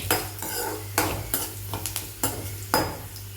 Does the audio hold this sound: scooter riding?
no